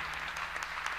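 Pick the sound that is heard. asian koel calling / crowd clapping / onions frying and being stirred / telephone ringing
crowd clapping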